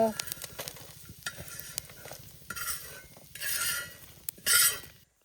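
Masala being stirred and roasted in a pan for a rohu fish curry: steady sizzling with repeated scrapes and clinks of a spoon against metal, and louder bursts of frying near the end.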